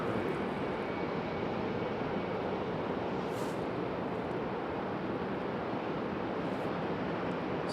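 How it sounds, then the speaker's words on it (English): A Boeing 777 airliner pushing back at Raleigh-Durham International Airport, heard as a steady broadband roar of airport and engine noise, constant and unbroken, with no talk. "So the 777 pushing back."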